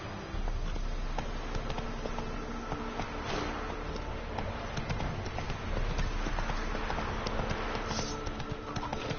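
Roach, a horse in The Witcher 3, gallops along with a steady, continuous hoofbeat rhythm of clip-clop, moderately loud and close, over a dense game ambience with no talk.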